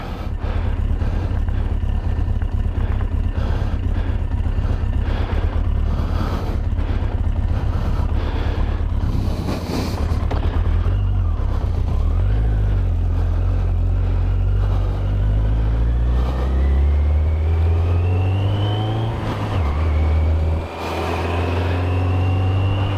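Riding Charlotte, a naked motorcycle, with the engine droning loud and steady under heavy wind rush, then revving up with a rising pitch as it accelerates near the end.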